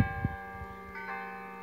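A church bell in a snowy French town tolls once, loud and close, its bright ringing tone holding and slowly fading over a soft background.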